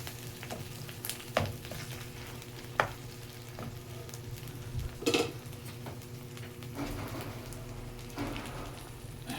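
Holiday corned beef frying in a pan for breakfast, a steady loud sizzle with crackles and occasional stirring clatter and clinks throughout.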